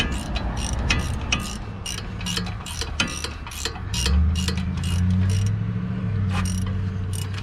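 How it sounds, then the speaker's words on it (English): Rusty bolts are worked loose from the wheel knuckle of a 2006 Nissan Pathfinder 4.0 SE, giving a series of close ratcheting clicks and metallic ticks over a low mechanical hum. "the next part is removing these 4 bolts"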